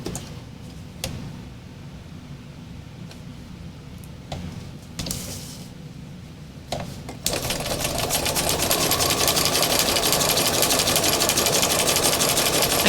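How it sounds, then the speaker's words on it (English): A sewing machine with a regular size 90 needle stitches slowly around the edge of Yupo paper, with scattered clicks and taps early on, then settles into a loud, steady whirring hum. "I'm going to stitch around the edge of the Yupo"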